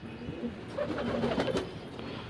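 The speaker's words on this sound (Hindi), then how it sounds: "करण भाई के कबूतरों का शौक पूरा करवाएंगे अपन" Pigeons in a rooftop loft in Khandwa give soft, low, rolling coos, several overlapping at close range over light background noise with no talking.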